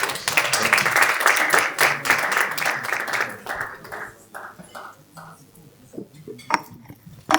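An audience at an investor forum applauds, a dense round of clapping for about three seconds that thins into scattered claps and dies out, with a few clinks nearby.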